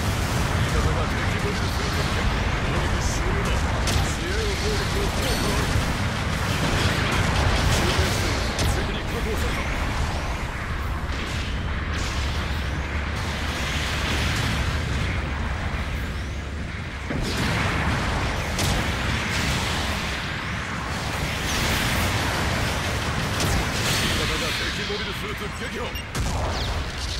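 Artillery bombardment pounds the battlefield in Gundam Battle Operation 2, a dense, continuous roar of explosions and booms rolling on with steady loudness throughout, with voices heard intermittently over the barrage.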